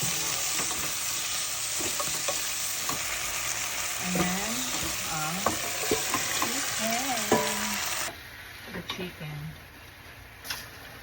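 Chicken simmering with tomatoes in a pot for a Filipino kinamatisang manok, with chicken cubes added, gives a steady bubbling, sizzling hiss. Someone talks over it now and then, and the hiss drops away sharply near the end.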